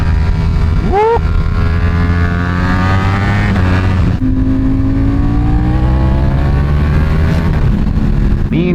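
A Honda Grom motorcycle is ridden on the road to school, its small engine buzzing loudly and steadily. Pitch rises through gear changes, with wind rush mixed in.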